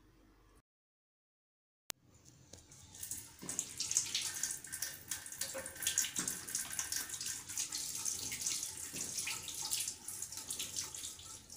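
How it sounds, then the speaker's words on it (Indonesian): Hands are washed with soap under running tap water in a six-step routine: a brief silence, then a steady, close rush of water that continues throughout. "Lalu mencuci tangan 6 langkah dengan sabun dan air mengalir"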